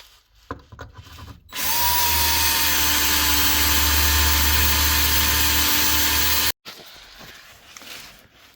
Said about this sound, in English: Some decide to drill them out to save my plastic tray.